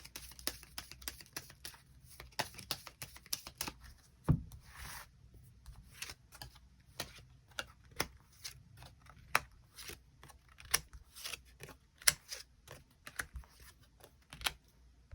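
Tarot cards are drawn and shuffled during a weekly reading, giving quiet, close, irregular flicks, slides and soft taps of card stock with no talk over them.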